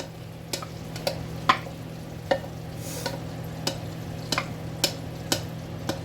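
Diced yellow onion, celery and jalapeno peppers cook in a gumbo pot over medium heat, a low steady sizzle punctuated by sharp regular clicks of a spoon against the pot, close and quiet with no voices.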